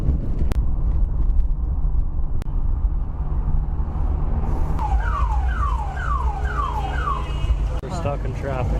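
Downtown traffic in Ica, Peru rumbles steadily with passing engines. In the second half a warbling alarm or siren sweeps up and down several times, and a couple of sharp clicks cut through.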